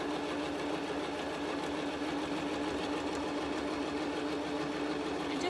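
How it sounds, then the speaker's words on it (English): A sewing machine runs steadily, stitching around the top edge of a reversible tote bag, its motor giving a continuous even whir up close with no pauses or talk. "starting at the top here where my handle is open and stitching around."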